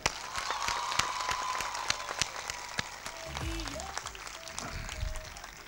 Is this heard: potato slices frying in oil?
no